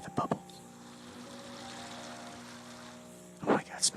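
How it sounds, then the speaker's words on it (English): An ozonator bubbles water in a bowl, giving a soft, steady low gurgle close by, framed by brief bursts of sound at the start and end. "It's the sound of the bubbles."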